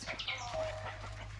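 Birds chirping and clucking faintly alongside what sounds like chickens, with a low steady hum underneath, brief and quiet.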